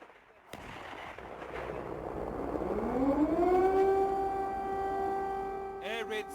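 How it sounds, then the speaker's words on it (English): An air raid siren wails over Kyiv, Ukraine, at the start of a Russian invasion, rising from a low growl into a long, steady, loud tone that holds for several seconds, with distant outdoor noise and no talking. "Air raid sirens go off in Ukraine's capital Kiev"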